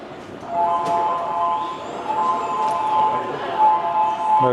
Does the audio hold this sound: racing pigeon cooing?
no